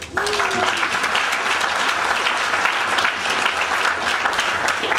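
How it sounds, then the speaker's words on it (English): Wedding after-party guests clap for the bridesmaids, a full burst of applause that starts abruptly and stays loud and dense throughout, with a brief voice at the very start. "I think they deserve a round of applause."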